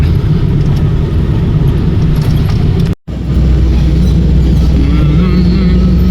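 A vehicle towing a trailer over a rough Appalachian backroad, a loud continuous engine rumble with rattling and jostling noise, briefly cut out midway before resuming.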